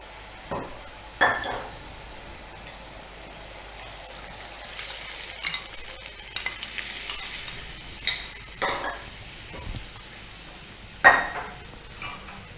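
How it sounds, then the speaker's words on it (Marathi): Water is stirred into kadhi batter in a pan, with a few scattered scraping and splashing strokes and a faint background sizzle, close by and without talk. "आपण पाणी घालायचं कढी आपल्याला पातळ करायची आहे"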